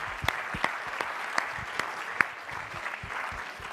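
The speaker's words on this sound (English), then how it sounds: "Let's give a big round of applause." An audience at a French tech conference applauds after a startup pitch, steady clapping with a few sharp nearby claps standing out.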